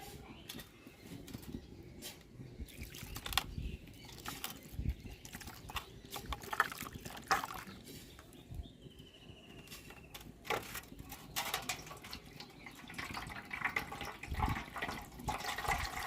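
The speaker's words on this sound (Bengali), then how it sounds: "আমি আর একবার এটাকে জল দিয়ে ভালো করে ধুয়ে নেবো" Soybean chunks are rinsed under water in a kitchen, with irregular splashing, sloshing and pouring, faint and close, mixed with scattered knocks and handling noises for around sixteen seconds.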